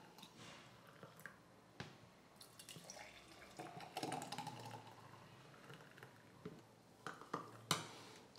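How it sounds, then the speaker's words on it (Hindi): Slushy mint margarita is poured into chilled glasses as soft, sporadic splashes and drips, with quiet clinks and a faint trickle near the middle. "अब ये मिंट मार्गरीटा को हम ग्लासेस के अंदर डालेंगे।"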